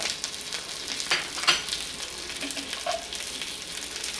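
Curry leaves and green chillies frying in hot oil for tomato rice, giving a steady crackling sizzle throughout with a few brief sharper pops near the start, close and moderately loud with no talking.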